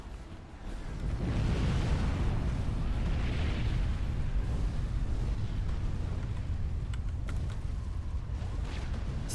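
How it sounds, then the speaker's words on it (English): Missile launches and explosions in Supreme Commander: Forged Alliance battle rumble as a loud, dense roar of blasts starting just under a second in and sustaining throughout, with faint crackling bursts later on. "another missile coming out from Turbo 2"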